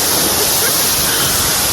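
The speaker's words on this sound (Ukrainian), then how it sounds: "Каскадний водоспад Пауерскорт" The Powerscourt cascade waterfall in the Irish mountains roars as a loud, steady, dense wash of falling water, close and unbroken, with no other sounds standing out.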